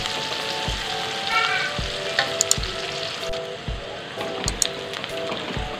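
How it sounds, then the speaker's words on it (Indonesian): Shallots, garlic and chili for sambal fry in hot oil with a steady, loud crackling sizzle, occasional stirring clinks and taps punctuating it, and no voices. "Ini mau aku goreng sampai matang ya."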